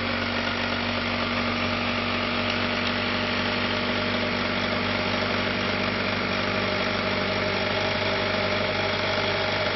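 An electric golf cart motor runs steadily on a bench coil test at 120 volts, a constant mid-pitched motor hum and whine with a firm, unchanging drone and no speech.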